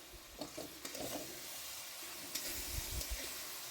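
Turmeric and Kashmiri red chilli powder fry in a pan for a mixed vegetable dish, giving a soft, continuous sizzle with intermittent low scraping strokes of stirring, close and quiet.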